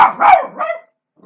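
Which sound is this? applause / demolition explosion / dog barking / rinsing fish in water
dog barking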